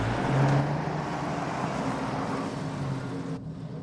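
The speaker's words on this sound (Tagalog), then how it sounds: "Hindi ba yun ang kotse ni Gregory Rhodes?" A car engine hums steadily nearby, a low continuous drone with a brief rise early on before the sound cuts off near the end.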